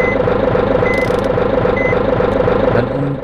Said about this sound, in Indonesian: Dan ini untuk sound mundurnya guys ya.